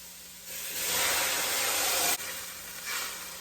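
Vegetables sautéing for pasta fagioli soup, a steady hissing sizzle that swells, briefly drops and rises again, with no voices.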